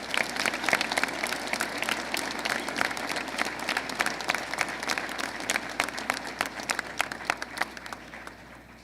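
Steady audience applause fills a school Veterans Day assembly hall, honoring teachers and staff with dense, continuous clapping from a large crowd that holds for several seconds before slowly thinning toward the end.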